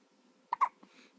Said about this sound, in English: Those are big hiccups.